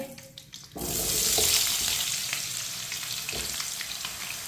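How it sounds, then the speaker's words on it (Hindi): Cut potatoes dropped into hot oil, a sudden loud sizzle that swells and then holds as a steady frying hiss with light stirring scrapes, close and without talk. "कटे हुए आलू डालेंगे,"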